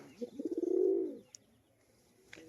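A breeding pair of pigeons gives a single soft, rolling coo close by, followed by quiet with a couple of faint clicks.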